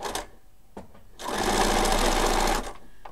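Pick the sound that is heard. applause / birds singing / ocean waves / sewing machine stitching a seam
sewing machine stitching a seam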